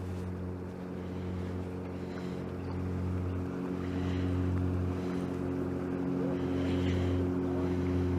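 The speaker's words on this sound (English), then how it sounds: "the boat is going to go straight over where I baited" Motorboat engine droning steadily on the water during a live match fishing session, a low continuous hum that swells slightly louder as the boat passes near, with wind noise on the microphone.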